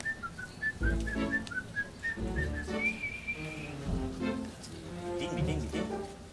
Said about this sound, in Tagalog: Sipol kaya? Sipol.